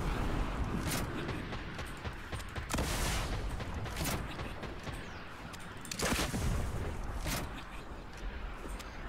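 Gunfire in the Fortnite video game: several loud cracking shots and bursts scattered over a constant noisy backdrop, with faint voices from players in the background.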